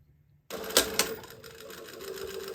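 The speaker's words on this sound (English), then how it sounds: "now I'm going to sew, and I'm just going to have my hand under here, keeping that tape unfolded" A sewing machine starts up abruptly after a brief silence, stitching tape on a Rhapsody blouse with a couple of sharp mechanical clacks before settling into a steady whirring hum.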